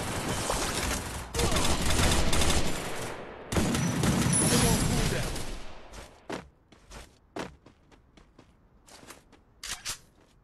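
Bursts of automatic gunfire in the mobile battle-royale game Free Fire on Android, loud sustained volleys in the first half, then scattered short shots and thuds, with players talking over it.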